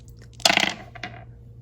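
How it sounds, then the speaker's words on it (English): Dice tumble and clatter on a hard surface during a reading bingo game, with one sharp rattling burst followed by a shorter second clack as they settle. The sound is close and carries no talk. "let's go ahead and do the very first roll."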